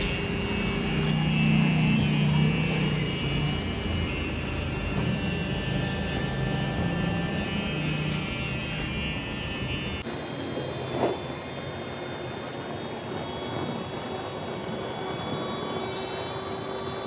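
An electric motor runs with a steady, buzzing hum and a high whine that shifts in tone partway through, loud and continuous with no talk.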